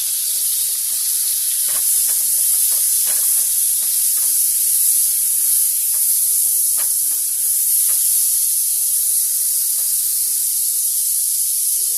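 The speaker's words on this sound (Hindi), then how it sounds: "जो हमारा बटर है वो डाल देंगे और बटर को मेल्ट होने देंगे।" Butter melts in an oiled frying pan, giving a steady, loud sizzling hiss with scattered small pops and crackles throughout, no voices.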